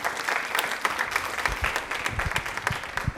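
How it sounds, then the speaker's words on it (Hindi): Studio audience applause on a Rajasthani television quiz programme's Women's Day special, a dense, even patter of many hands clapping together for about three seconds with no one speaking. "तालियां एक बार मीनाक्षी मैम के लिए जोरदार होनी चाहिए प्लीज।"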